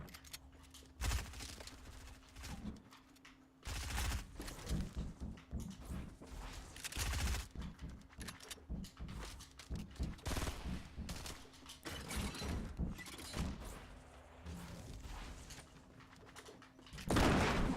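Sniper and rifle fire in a video game, repeated sharp shots and bursts scattered over a noisy in-game background, some loud and close, others softer, with no speech.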